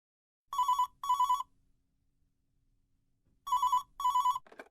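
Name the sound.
telephone ringing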